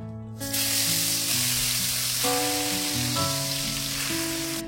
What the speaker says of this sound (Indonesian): kita tumis pakai api yang sedang cenderung kecil ya